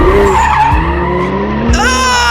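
A car drifting hard through a sharp turn, with loud, sustained tire squeal sliding in pitch over engine roar, close up and with no speech.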